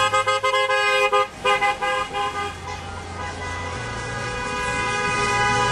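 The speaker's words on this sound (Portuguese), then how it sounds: "Não sei se dá para escutar as cornetas" Plastic cornetas blown by football fans outside a stadium at a Brazil versus Mexico match, a loud crowd of sustained, overlapping horn tones and bursts blaring together in the open air with no talk.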